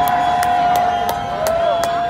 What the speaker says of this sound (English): everyone just started cheering